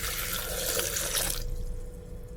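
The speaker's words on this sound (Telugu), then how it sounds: "కొంచెం వాటర్ యాడ్ చేస్తున్నాను" Water pours steadily into a cucumber and kiwi drink for about a second and a half, then the flow stops and only a faint residual trickle remains.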